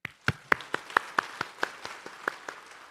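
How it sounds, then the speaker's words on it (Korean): A church congregation gives a short round of applause to its media and sound team, a sparse, distinct series of individual claps in a loose rhythm, fairly close and moderately loud, with no speech. "이번 기회에 박수로 한번 격려합시다."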